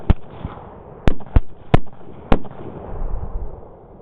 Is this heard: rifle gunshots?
yes